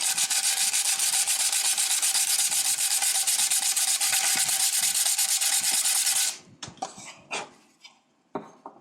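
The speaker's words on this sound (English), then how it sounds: "And then you just take your 60 grit right here. You can just sand it down real quick." Steady, loud hand sanding of fiberglass on a 1968–69 Corvette with 60-grit sandpaper runs close and continuous for about six seconds, then stops, followed by a few scattered knocks and handling clicks.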